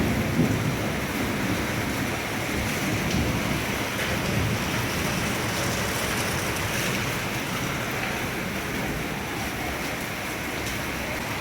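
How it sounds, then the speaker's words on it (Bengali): Heavy rain pours steadily onto surfaces with distant thunder rumbling underneath, an even, continuous hiss that lasts throughout without any voices. "এখন বৃষ্টি পড়ছে, দেখো মেঘও ডাকছে সঙ্গে।"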